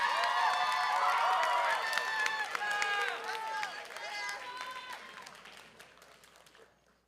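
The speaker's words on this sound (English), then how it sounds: "Please give a final round of applause to all the roses as they leave the stage" A large pageant audience claps and cheers loudly and steadily as contestants leave the stage, the dense applause tapering off gradually until it fades to near silence.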